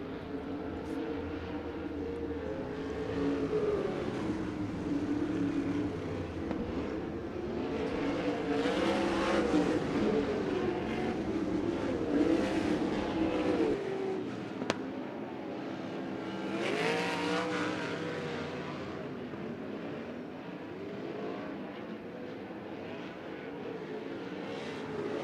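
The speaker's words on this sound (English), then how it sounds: "starting to hear these cars starting to stand on the loud pedal" USAC race cars roar down the front stretch at Central Arizona Raceway during a hot lap session, engines revving hard in a sustained, loud drone that swells as cars pass, with a faint announcer voice underneath.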